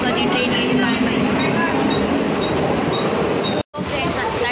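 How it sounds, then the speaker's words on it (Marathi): A suburban train bound for Virar arrives at a station with a loud, continuous rumble of wheels and carriages that stays close and steady throughout. "फ्रेंड्स, आता ट्रेन आली आणि आम्ही आता चाललो आहे, विरारचीच ट्रेन आहे."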